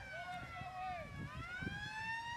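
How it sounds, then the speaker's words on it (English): A vintage police car siren wails in rising and falling sweeps during a museum parade of classic cars, fairly faint and distant, with crowd murmur and low rumble beneath. "those of you who are listening to the siren"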